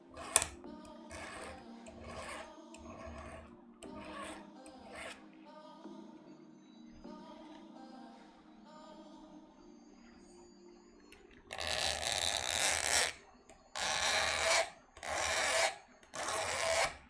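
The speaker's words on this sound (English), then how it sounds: "I'm grinding flats on a Torx bit I've never used" A Torx bit being ground to put flats on it, heard as several loud bursts of harsh grinding in the latter part, each lasting about a second, after a long, quieter stretch of faint ticking and rubbing.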